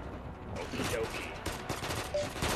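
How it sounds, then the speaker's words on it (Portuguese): Dense, rapid gunfire from an Android multiplayer FPS battle game in Warzone style, with overlapping bursts and shots that stay loud and continuous throughout. "Agora o tiro tá comendo."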